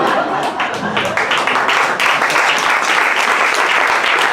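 Applause from an audience at a stand-up comedy show, dense sustained clapping that holds loud and steady throughout with a few faint voices mixed in.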